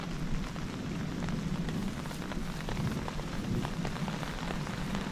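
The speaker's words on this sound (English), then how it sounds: "We're getting just a little bit of rain." Light rain falls outdoors during a passing storm, a steady soft patter of drops on surfaces with occasional sharper taps and no voices.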